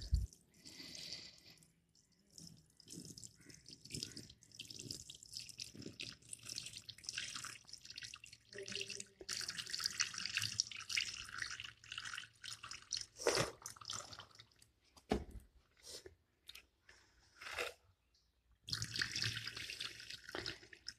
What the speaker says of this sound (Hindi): ये पानी हम इसको अब ज़ाया कर देंगे।